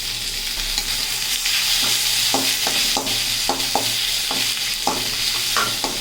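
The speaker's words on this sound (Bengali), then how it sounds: "টমেটোটা দেওয়ার পরে 1 মিনিট মতো ভেজে নেব" Chopped tomatoes frying in a pan, with a steady close sizzle and repeated spatula scrapes and stirring clatters at an irregular rhythm, no talk.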